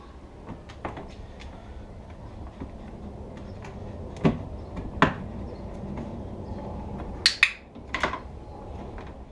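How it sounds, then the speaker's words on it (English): Door of a crate housing an Australian brush-tailed possum being shut and latched, heard as a few sharp knocks and clicks, with a pair of quick clacks near the end, against a steady room hiss. "DEVEY puts 4 feet inside the crate and then turns around and waits whilst I shut and latch the door."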